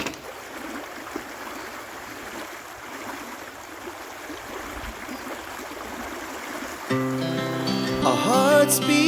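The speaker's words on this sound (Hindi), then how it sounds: "नदी का फ्लो यहाँ पर बहुत ज़्यादा है। आवाज़ सुनिए।" A fast-flowing river rushes beneath a bamboo bridge in Hooghly district, a steady broad roar of water that carries on until music comes in near the end.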